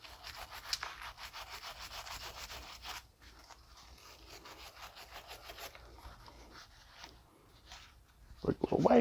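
A brisk rubbing scrape as a car battery terminal is wiped clean, a steady gritty swish for a few seconds, then quieter handling, with someone talking over it.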